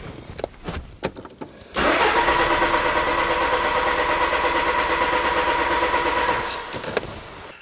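A car being diagnosed for a no-start fault cranks and fires after a few faint clicks, then settles into a steady, loud idle for several seconds before the engine note drops away near the end.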